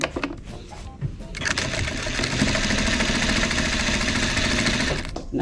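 A sewing machine stitches a seam on a caddy made from a damaged vintage quilt, tucking canvas seam allowance inside, running in a steady continuous whir for several seconds after a brief start, close and fairly loud.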